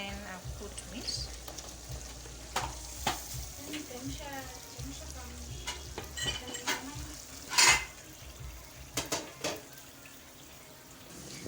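Meat frying for pilau in a pot, a steady sizzle with intermittent scraping and clinking as it is stirred, moderately close and mostly without talk.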